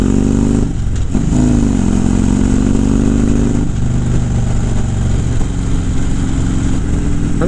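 A motorcycle ridden on the road, engine loud and close throughout, with a steady drone that rises and falls through small throttle changes and brief gear shifts.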